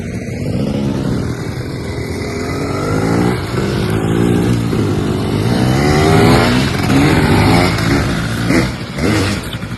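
Motorbikes on a bush walking track ride past, a close engine rising and fading with revving pitch changes, loud and steady for several seconds with no talk.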